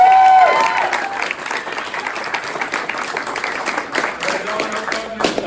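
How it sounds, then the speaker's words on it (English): Applause breaks out from the audience at a Comic-Con fan panel, starting with a crowd cheer and settling into uneven clapping at moderate distance, with a few scattered sharp claps standing out. "Round of applause for Lyles."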